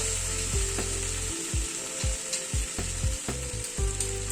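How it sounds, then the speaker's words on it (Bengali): A vegetarian mixture fries in a pan with sugar added, with a constant sizzle under brisk, evenly spaced scraping stirs of a spoon against the pan. "চিনিটা দিয়ে আবারও মিনিট দুয়েক মতো একটু নাড়াচাড়া করে নিলাম"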